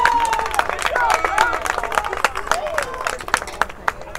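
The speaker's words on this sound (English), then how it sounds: "And we got some applause after the conference." Crowd applause at a college baseball game in an NCCAA tournament, Emmanuel against Brewton-Parker, scattered claps and cheers from the stands mixed with crowd murmur and a voice carrying over it.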